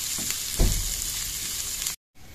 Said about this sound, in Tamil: எண்ணெய் ஒரு 2 டேபிள் ஸ்பூன் நமக்கு சேர்த்துட்டு நல்லா ப்ரௌனாக வெடிச்சிக்கலாம்